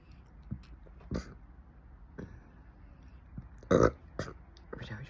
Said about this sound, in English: Every time I try to burp,